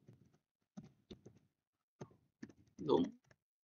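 Keys clicking on a computer keyboard as a format volume command is typed, several quiet close taps in small bursts with pauses, ending in a louder thud.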